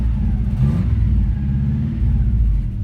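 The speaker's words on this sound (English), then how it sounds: "Here's a quick little rev for you so you can hear it." A 1991 VW Vanagon fitted with a Subaru 2.5L engine idles and is blipped up in a quick rev, a loud close rumble that rises and settles without speech.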